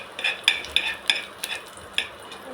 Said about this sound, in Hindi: थोड़ा गार्लिक को सौते कर लिया